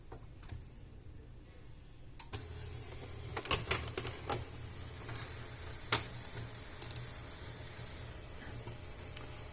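An HP LaserJet Pro M102w laser printer starts up with quiet ticks and clicks over a low mechanical hum, including a few sharper clacks partway through and a soft hiss, with no speech.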